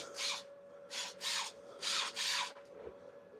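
Wood turning on a lathe produces five rhythmic scraping passes of the cutting tool, each about a third of a second long. The strokes come in a steady cycle at moderate volume over a faint background hum.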